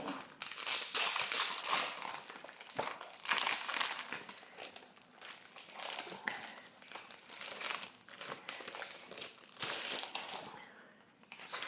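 Thin double-sided card-making paper sheets crinkle and rustle continuously as they are handled up close, with bursts of crisp crackling and brief pauses.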